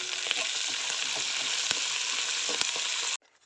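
Brinjal, carrot, knol-khol, beans and curry leaves frying in a pan for vegetable upma, a continuous close sizzle with a few stirring clicks, stopping abruptly near the end.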